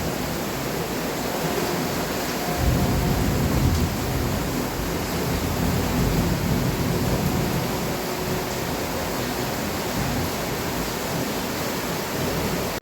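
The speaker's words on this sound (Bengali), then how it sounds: "সারাদিন অতিরিক্ত গরমের পরে খুব শান্তির একটা বৃষ্টি শুরু হয়ে গেছে।" Evening rain falls steadily on a rooftop after a hot day, a dense, even hiss with no voices, swelling slightly partway through.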